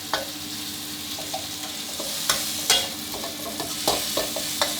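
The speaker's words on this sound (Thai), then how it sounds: "ผัดให้พริกกระเทียมออกกลิ่นหอมดีครั้งก่อนครับ" Chili and garlic are stir-fried over medium heat in a pan, making a soft continuous sizzle broken by scattered scrapes and clinks of the spatula, with no voices.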